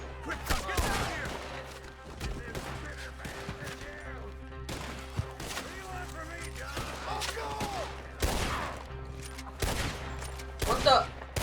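Red Dead Redemption 2 gunfight: repeated loud rifle and pistol shots crack in bursts over a low steady hum, with shouted voices between the volleys.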